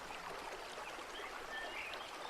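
Steady rushing water from a waterfall, with a constant broadband hiss and faint bird chirps above it.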